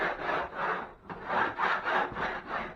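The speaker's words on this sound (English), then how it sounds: "Just scrape it." A scraper drags across a rough textured wall in several rhythmic, close strokes, a harsh rasping scrape that swells and fades with each pass, with no voices.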